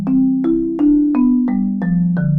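A bowed fiddle plays a steady ascending arpeggio of seven separate notes, starting on the first inversion, each clearly articulated over a held low drone, close and fairly loud.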